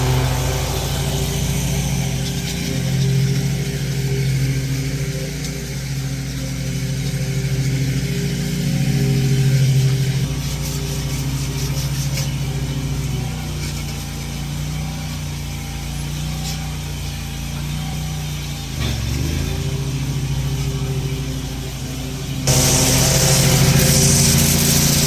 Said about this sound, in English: They're mowing my grass right now.